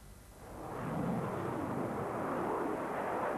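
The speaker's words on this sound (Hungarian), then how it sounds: "Sorrendben először következzen a svéd repülőgép." A Swedish JAS 39 Gripen fighter jet roars past, its broad engine rush swelling from a distant hiss to a loud sustained blast that holds to the end, with no voices.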